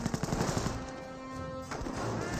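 Gunfire from a Company of Heroes battle between British and Panzer Elite forces: dense machine-gun bursts and rattling fusillades, loud and close, continuing throughout with a steady mechanical drone beneath.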